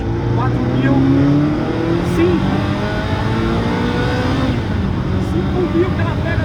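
A Ferrari F40 accelerates in second gear, its engine a loud, steady rising drone heard from inside the car, with someone talking over it throughout.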